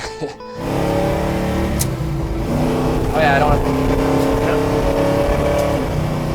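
A car engine roars and accelerates up close, steady and loud, with a brief voice speaking over it.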